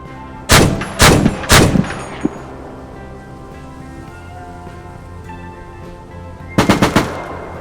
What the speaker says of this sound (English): Another specific feature of this type of cannon is the ability to use aerial explosive ammunition, ABM, air burst munition.